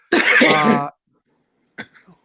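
One loud, rasping throat clearing, then a short pause and a couple of faint, brief coughs.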